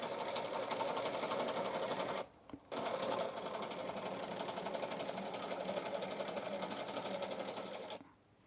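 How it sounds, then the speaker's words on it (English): An embroidery sewing machine stitches on a rug with a loud, fast, steady mechanical chatter, pausing briefly once before resuming and stopping at the end. "to show the embroidery sewing on the rug"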